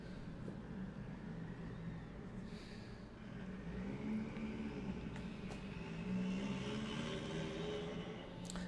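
A loud car passes outside, a low, steady engine rumble that swells a little and holds, heard at a distance through a room and fairly faint overall.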